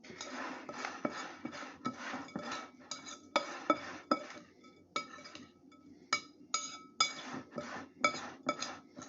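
A utensil stirs inside a metal pot while cooking roast chicken with sausage and bacon, with repeated scraping clinks and taps against the sides in an uneven rhythm, close and moderately quiet, with no talking.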